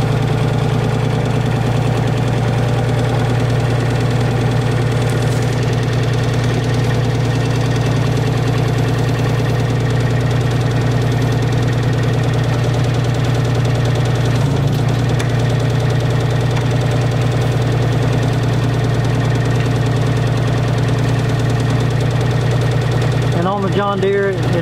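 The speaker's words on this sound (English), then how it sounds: "let's jump in the excavator now and let's see what this thing does" A John Deere 27C mini excavator's engine runs at a steady idle, a loud, close, continuous low rumble with a strong hum and slight knocking texture throughout.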